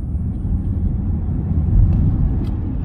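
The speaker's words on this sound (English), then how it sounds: "you do get a real electrical whoosh when you floor it" A Tesla Model 3 Performance accelerating hard gives a steady, loud low rumble with a faint electric whoosh that swells slightly midway, no voices over it.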